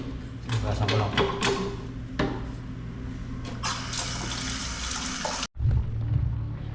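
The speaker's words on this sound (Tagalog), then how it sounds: "Hugasan natin itong kinain ng kaninang umaga." Water runs from a kitchen tap while dishes are washed, a steady splashing stream with clinks and clatter, someone talking over it, then a short cutoff and more water.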